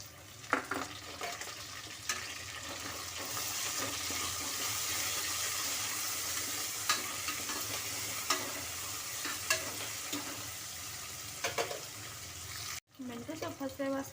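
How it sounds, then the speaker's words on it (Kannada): Fenugreek leaves frying in oil in a pan, a steady sizzle with occasional clinks and scrapes of a spoon stirring, moderately quiet, with a brief dropout near the end. "ಮೆಂತ್ಯ ಸೊಪ್ಪು ಹಸಿ ವಾಸನೆ ಹೋಗೋವರೆಗೂ ಸ್ವಲ್ಪ ಇದನ್ನು ಫ್ರೈ ಮಾಡಿಕೊಂಡ್ರೆ ಚೆನ್ನಾಗಿರುತ್ತೆ"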